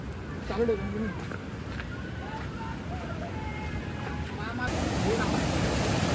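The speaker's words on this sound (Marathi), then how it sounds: "हो, ये हा आहे छोटासा मिनी वॉटरफॉल" A small mini waterfall near Badlapur, the mini Kuderan falls, gives off a steady broadband rush of falling water with faint voices and a brief bird-like call drifting over it.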